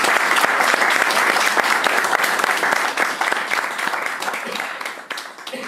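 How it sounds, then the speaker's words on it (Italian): Audience applause at a commemorative event, a loud, dense wash of many hands clapping continuously that eases slightly toward the end. "Quindi chiederei di fare un grande ringraziamento e un grande applauso a Marco."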